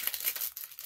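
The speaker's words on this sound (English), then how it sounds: "this sticker pack, this one right here, let's open it up. I don't want to rip it" A sticker pack wrapper being opened, brief close crinkling and faint tearing of thin plastic, quiet and without talk.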